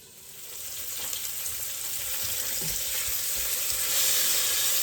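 Hamburger steak patties fry in a hot pan, a steady crackling sizzle that swells louder as they sear and crust over, with no talking.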